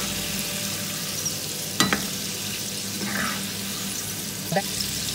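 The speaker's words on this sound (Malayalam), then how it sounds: "ഈ തിളയ്ക്കുന്ന ഈ സൗണ്ട് ഉണ്ടല്ലോ ആ സൗണ്ട് നിൽക്കുമ്പോഴാണ് അത് ശരിക്കും ക്രിസ്പി ആവുക" Chicken pieces deep frying for a restaurant-style chicken dynamite, with a steady, dense crackling sizzle of bubbling oil throughout, broken by a couple of sharper clicks and utensil taps.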